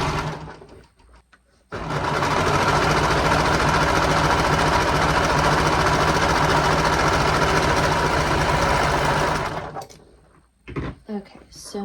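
A sewing machine stitches the top piece of a romper to the bodysuit in one continuous, fast, loud run lasting about eight seconds, with quiet handling noises before and after.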